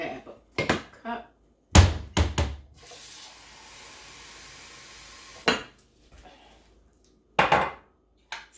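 In a home kitchen, dishes and cutlery clatter in short, sharp bursts separated by gaps as a cup is picked out, with a quieter stretch in the middle and no talking.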